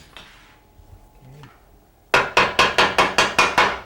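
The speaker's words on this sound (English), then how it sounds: "uses a chisel to put in the details that give each weather vane its unique character" A chisel is hammered into a handcrafted copper weather vane: after a quiet lead-in, eight sharp metallic strikes land in a steady, evenly spaced rhythm, close and loud, with no talk.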